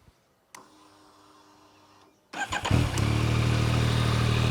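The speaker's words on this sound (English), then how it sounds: "So let me start it for you guys so you can check the sound." A 2021 Yamaha MT-09 SP triple engine: a brief click and whir of the starter, then the engine catches with a few sharp revs and settles into a steady, close idle, with no talking.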